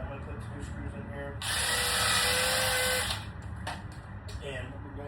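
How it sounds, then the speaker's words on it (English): A small power drill pre-drills a hole in a wooden toy box, whining loudly and steadily for about a second and a half mid-clip, with a voice talking before and after. "So I take my little pre-driller, and I'm going to put 2 screws in here."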